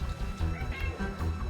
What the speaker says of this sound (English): that's my cat you can hear in the background